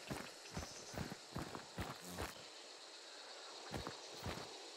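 Footsteps in the game Hunt: Showdown, a quiet run of evenly spaced thuds that pauses, then returns as a few more distant steps, heard alone.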